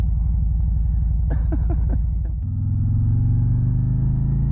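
A 2024 Harley-Davidson Road Glide engine idles with a deep, loping rumble, then revs up briefly and settles into a lower, steady throb nearby.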